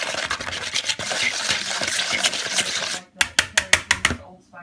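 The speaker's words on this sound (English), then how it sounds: "Give it a nice whisk." Sugar and spices whisked into bloomed yeast and milk for vegan cinnamon rolls: brisk, steady scraping strokes against a bowl, then a run of five or six sharp, separate taps before it falls quiet.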